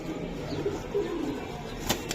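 Racing and high-flyer pigeons coo softly nearby at a pigeon sale, low rounded calls repeating over a faint background rustle.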